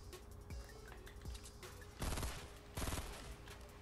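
Tactical submachine gun fire in Fortnite, with a few scattered shots followed by two rapid automatic bursts, fairly distant and soft against the game ambience.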